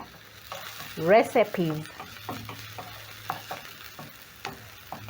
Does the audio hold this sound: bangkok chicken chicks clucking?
no